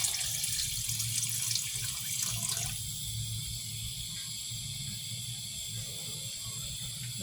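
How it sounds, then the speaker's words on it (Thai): Soup broth pours into a pot for Thai khanom jeen nam ya with chicken feet, a steady watery hiss that runs the whole time, loudest in the first few seconds and then settling into an even flow. "แล้วใส่น้ำซุปลงไปเลยพี่น้อง"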